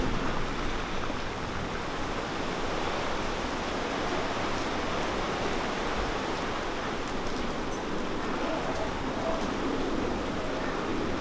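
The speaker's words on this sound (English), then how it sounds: "Another rainy day in Point Venture." Steady rain falls at Point Venture during a thunderstorm, a continuous, even wash of noise with no pauses that holds at a constant level throughout, without any voices.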